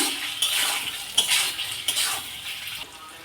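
Peanuts rattle and scrape against a pan as a spoon stirs them, with light clinks of metal over a soft sizzle, in irregular strokes close by.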